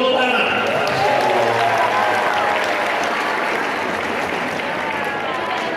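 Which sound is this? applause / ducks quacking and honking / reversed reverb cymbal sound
applause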